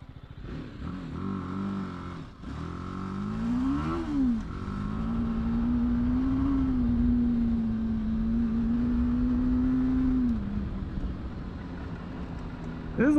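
An adventure motorcycle, a BMW G 310 GS or Honda CRF300L, accelerates on dirt, its engine note rising in pitch through the gears and then holding a steady drone, close and loud, with wind buffeting throughout.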